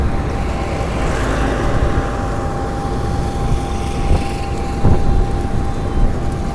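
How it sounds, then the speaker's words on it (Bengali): Big trucks passing on a road, a loud, continuous low engine rumble and tire roar from heavy vehicles close by, with slight swells as they go past and no talking. "কি বড় বড় ট্রাক!"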